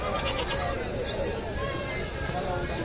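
Goats bleat amid the steady hubbub of a crowded Saturday livestock market in Kashti, Shrigonda, Ahilyanagar, with voices and background noise constant throughout.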